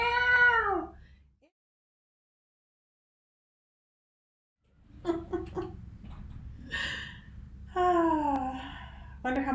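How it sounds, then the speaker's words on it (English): Two house cats argue in a room, one giving a long wavering meow, then after a silent pause a burst of yowls, growling snorts and rising caterwauls at close range. "my cats are starting to argue with each other right over there"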